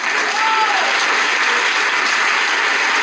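A congregation at a church preaching service breaks into sustained applause, loud and continuous, with faint voices mixed into the crowd noise.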